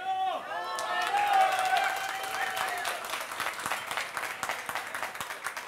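Studio audience at a Swedish cooking competition semifinal in Växjö cheers and claps for a chef, dense applause with whoops building quickly and sustaining steadily throughout.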